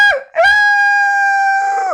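During a church sermon, a voice imitates a rooster crowing, giving one loud, drawn-out cock-a-doodle-doo after a brief opening call.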